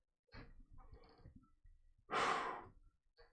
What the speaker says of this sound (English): I had to let out a yawn.